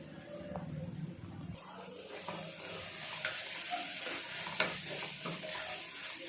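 Beans are tipped into a pan of frying onions and stir-fried, with a steady sizzle and repeated spoon scrapes and stirring clatter, close by.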